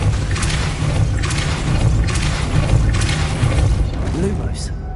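A Depulso spell cast in Hogwarts Legacy, sounding as a run of broad whooshing bursts roughly every second over a steady low rumble of game ambience.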